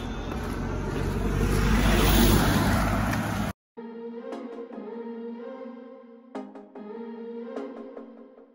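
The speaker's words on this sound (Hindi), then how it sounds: "गाड़ी आ रहा है साइड हो जा।" A car approaches along a road during a long walk, its rushing engine and tyre noise swelling loud and close for several seconds before cutting off abruptly, followed by quieter tonal sounds.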